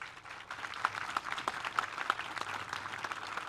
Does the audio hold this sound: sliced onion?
no